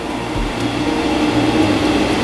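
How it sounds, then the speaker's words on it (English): Steady low rumble of a train on the tracks nearby at a footpath level crossing near Rabbit Ings Country Park, Royston, West Yorkshire, a continuous rolling roar with no voices. "The train's just passed here"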